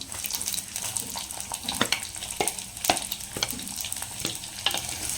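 Fennel seeds and onion frying in oil in a clay pot, a soft, close, continuous sizzle with crackles and occasional stirring scrapes.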